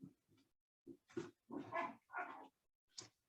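Two puppies indoors giving short yips, whines and little barks in a quick irregular series of bursts, faint and somewhat distant in a quiet room.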